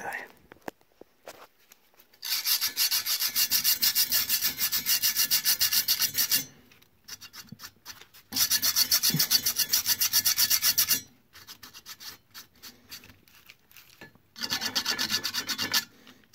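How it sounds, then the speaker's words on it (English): Rust being scrubbed off the slides of a drill press, three bursts of harsh, rapid rasping strokes, each a few seconds long, separated by quieter pauses with faint handling noises. "Get the rust cleaned up off those slides so it slides in and out nice and easy."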